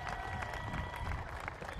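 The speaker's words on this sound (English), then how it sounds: "Let's give Caden a big round of applause." Steady applause from a crowd at a ribbon-cutting ceremony for a soccer stadium, continuous clapping with some cheering throughout, fairly distant and even in loudness.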